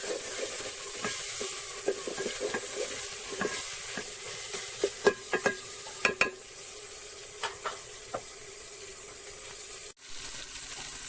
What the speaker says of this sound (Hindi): अब हमने मसाला भून लिया